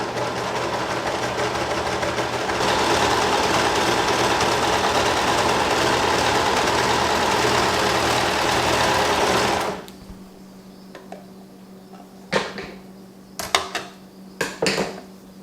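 A serger fitted with a gathering foot runs continuously for about ten seconds while it sews a light ruffle in fabric, a loud steady mechanical whir. It stops abruptly and a few scattered clicks and handling knocks follow.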